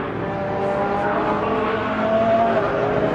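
Race cars lapping Brands Hatch, a sustained engine roar at moderate distance with a gradually shifting pitch as cars power down the straight, no voices.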